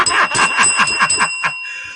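A small bell rings in a quick run of bright, clear strikes, up close and loud, then the ringing fades into a short tail.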